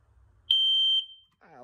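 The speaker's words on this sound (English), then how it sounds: "it'll simulate a smoke detector going off" A smoke detector alarm in a homemade enclosure gives one loud, piercing, steady electronic beep lasting about half a second, then a voice begins speaking.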